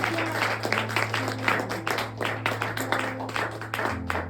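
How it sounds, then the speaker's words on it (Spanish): Loud, steady applause from a church congregation, many hands clapping together in dense bursts that carry on throughout with a low sustained hum beneath. "Llámale un aplauso fuerte"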